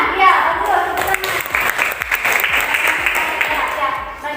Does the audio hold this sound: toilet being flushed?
no